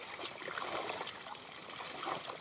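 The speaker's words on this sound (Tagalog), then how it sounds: "Dito, todo sawa ang tubig, oh." Water runs steadily at an outdoor laundry spot in the Philippine countryside while clothes are washed by hand, a soft continuous gurgling stream heard close by, with no talk over it.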